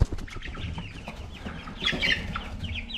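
Chickens cluck softly close by in a garden, with low murmuring calls and a brief brighter burst of chirpy clucking midway, all fairly quiet and without speech.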